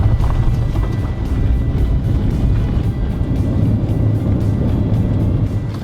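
A car driving on a road in Paro, Bhutan, with a steady engine and road rumble plus some wind buffeting, continuous and close, no talking.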